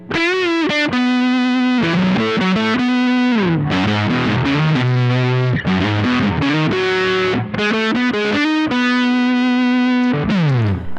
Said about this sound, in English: the distortion is from the Diving Bells by Bookworm Effects